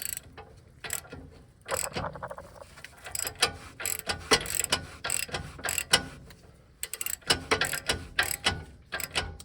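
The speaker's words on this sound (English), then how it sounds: "we're going to go ahead and tighten this castle nut up a little bit and snug it up as well" Ratchet clicking in bursts while snugging a castle nut on a lower ball joint of a 1996-2002 third-generation Toyota 4Runner, close and fairly loud, with short pauses between runs of rapid pawl clicks and no talking.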